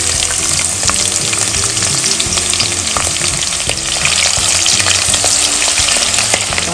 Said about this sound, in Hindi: चलिए तेल हो गया है। अब हम प्याज इसमें डाल देंगे।